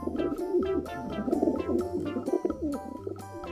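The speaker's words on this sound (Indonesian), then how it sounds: "ini ada burung merpati" Low, soft cooing of a pigeon repeats steadily over a busy, tonal musical background with a regular pulsing beat.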